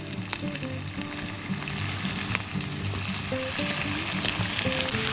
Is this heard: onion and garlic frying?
yes